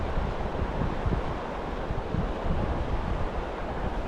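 River water cascading over rocks on the lower Santa Ana River in the San Bernardino Mountains: a steady, dense rushing roar, mixed with wind buffeting the microphone, with no talk.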